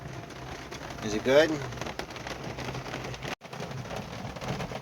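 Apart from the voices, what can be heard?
rain falling at a campsite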